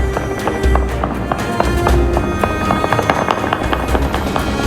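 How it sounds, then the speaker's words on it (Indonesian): Celebratory gunfire shot into the air across Beirut, Lebanon, marking the start of a ceasefire: a dense stream of distant cracks and pops over rumbling street noise, continuous and uneven. "Warga melepaskan tembakan bertubi-tubi ke udara untuk merayakan dimulainya gencatan senjata"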